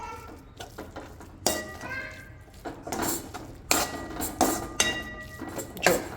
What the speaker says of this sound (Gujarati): થોડા જ લીલા ધાણા એડ કરીને એને પણ બરાબર મિક્સ કરી દેવાના